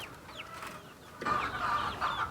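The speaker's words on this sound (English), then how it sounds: "we got chickens trying to get out" Chickens clucking and squawking close by on a farm, their calls growing louder and busier in the second half of the clip, with birdsong in the background and no talk.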